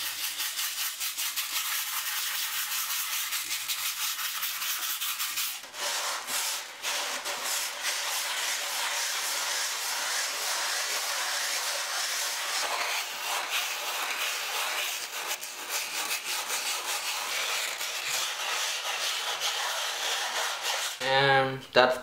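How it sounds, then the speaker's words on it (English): Continuous scratchy rubbing of sandpaper over a gessoed canvas, soft steady back-and-forth strokes close up, lasting a long stretch with brief pauses. "Now the final step is just sanding it."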